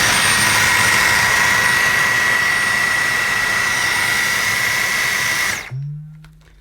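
A Dyson Micro cordless vacuum cleaner with a mini motorized tool attached runs with a loud, steady high-pitched whir and airflow rush, then shuts off abruptly near the end and leaves a brief low hum.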